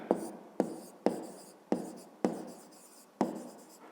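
Pen strokes on paper while working a fifth-grade maths exercise: quiet, close scratchy writing in repeated strokes, each starting with a sharp tap and fading, about eight in a steady rhythm with no talk.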